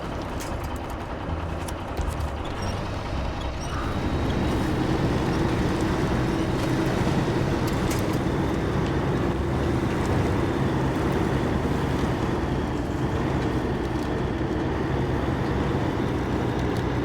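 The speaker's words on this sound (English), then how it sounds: "it does have a pretty cool engine sound, right?" Ortega truck engine in the Expeditions video game: a low, steady rumbling drone that grows louder after a few seconds and keeps a continuous throaty roar to the end, with no speech.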